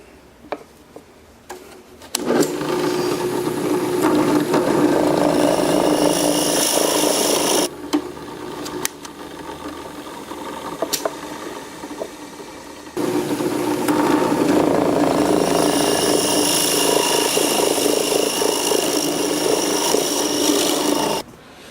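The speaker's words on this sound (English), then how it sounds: "So now I'll be drilling the holes for the inserts." Spade bits, including a 3/4 inch bit, boring holes in wood for a dowel-sizing station: two long stretches of loud, steady drill whine and rough wood-cutting rasp, separated by a quieter pause.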